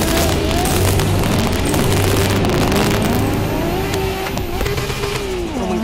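A Nissan Skyline R34 engine in Assetto Corsa, driven on a Japanese route, roars loudly and steadily for the whole stretch, its pitch climbing and dipping as the revs change. No one speaks.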